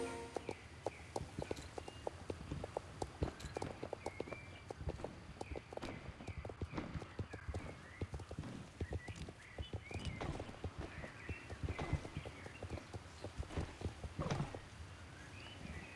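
Horse hooves clip-clop steadily in Star Stable Online, a rapid even walking rhythm of close, distinct hoofbeats continuing throughout with no talk.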